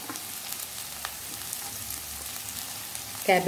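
Carrot, capsicum and cabbage frying in a pan for chicken fried rice give a steady soft sizzle throughout, with a few small clatters and a louder stirring rustle near the end.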